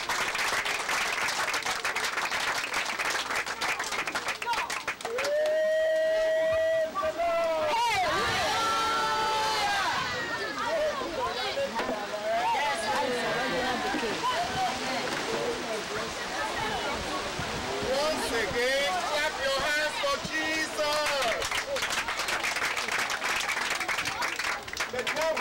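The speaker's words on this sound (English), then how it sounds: "Clap your hands for Jesus." A church congregation claps for Jesus in a dense, steady wash of handclaps lasting throughout, with singing or shouted voices rising over it in the middle.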